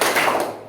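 One loud, bright clap of hands, close and short, fading quickly.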